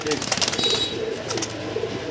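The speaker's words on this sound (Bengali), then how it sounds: "নতুন কবুতর" Low, soft coos from pigeons repeat nearby at a pigeon sale, mixed with some background chatter and faint bird noises.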